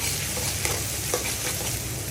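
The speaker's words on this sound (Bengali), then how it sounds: "এখানে পেঁয়াজ রসুন ভেজে নিচ্ছি।" Continuous close sizzling of onion and garlic frying in hot oil, with occasional stirring scrapes and no voices.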